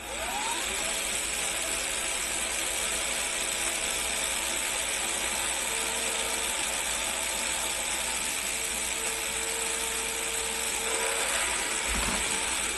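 A BuWizz motor spins steadily through an RPM test, giving off a continuous whine with a faint ratcheting mechanical texture that holds at an even level from start to finish, with no voices.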